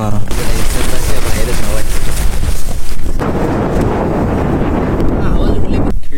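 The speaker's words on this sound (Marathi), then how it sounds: "बेकार टेंटला पूर्ण वाकवतोय वारा." Strong wind batters a camping tent pitched at Sondai Fort. The gusts roar loudly and continuously into the microphone with rough buffeting, easing briefly partway through before surging again.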